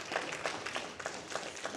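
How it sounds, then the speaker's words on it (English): A church congregation gives a few claps, a thin scattering of hand claps coming in separate bursts, faint and some distance off. "I got a few claps for a lady, you heard that?"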